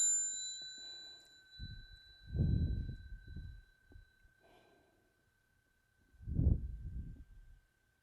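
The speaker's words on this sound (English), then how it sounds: "Each time when you hear the sound of the bell, you stop and you go back to your breathing." A single mindfulness bell strike rings out and lingers as a long, pure sustained tone fading slowly, with soft low thumps and breaths beneath.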